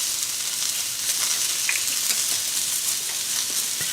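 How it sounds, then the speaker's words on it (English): Celery, onions and peppers stir frying in sesame oil give a steady, close sizzle with light stirring clicks throughout, and no one speaks. "we're just going to give that a quick stir fry"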